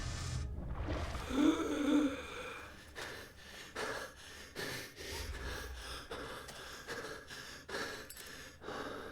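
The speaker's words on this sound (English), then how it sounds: "the thing that's making me cough is a hallucinogen" A character in the video game Call of Cthulhu coughs and gasps from a hallucinogen, with ragged breaths, wheezes and a run of short, choppy bursts at moderate loudness.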